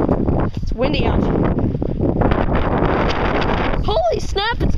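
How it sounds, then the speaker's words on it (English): Strong wind blows outdoors on a cold, icy day, roaring steadily and buffeting the microphone, with a person talking over it. "Holy snap, it's getting windy."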